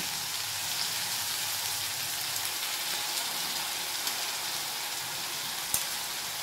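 Onion paste fries in a pan for a fish dish, giving a steady, even sizzle that holds at a constant level throughout, with a faint tick or two and no talking.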